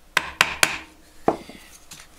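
A wood chisel chopping out the waste between hand-cut dovetails: three quick, sharp woody strikes in a row, a pause, then a fourth knock, close and distinct with no talking.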